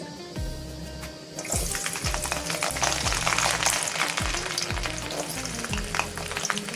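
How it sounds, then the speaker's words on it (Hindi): Garlic frying in oil in a kadai, a loud close crackling sizzle that starts up abruptly and keeps going, over a low rhythmic hum underneath, with no talking. "इसी तेल पे लहसुन ऐड कर देंगे पहले"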